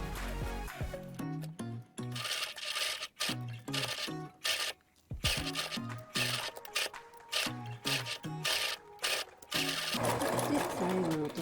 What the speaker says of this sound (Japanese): 同じようにこちらの顎の部分も縫い代1センチのところを縫っていきます。